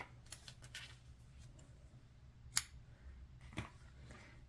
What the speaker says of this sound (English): you're going to cut your yarn